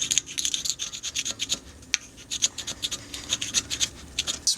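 Pumice stone scrubbing dried glue off a porcelain Standard urinal during restoration, close rhythmic back-and-forth rasping strokes with bright gritty scraping, alone without talk.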